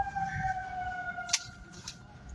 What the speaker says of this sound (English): Police and ambulances, there you go, right?